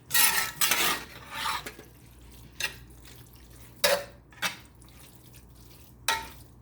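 Spoon scraping and clinking against a pan while shepherd's pie filling is stirred, in several sharp bursts with quiet gaps between, close and moderately loud with no talking.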